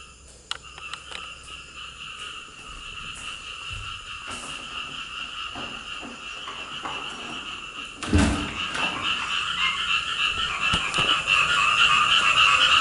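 A dense chorus of frogs croaking steadily at night in Borneo, growing louder toward the end, with a few knocks and clatters nearby.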